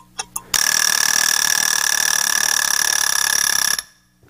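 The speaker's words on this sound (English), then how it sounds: "that's the tick-tick sound that you could turn on and off before the buzzer goes off" A Clock Pro iPhone app timer gives a couple of quick ticks, then a loud, steady electronic buzzer sounds for about three seconds before cutting off abruptly.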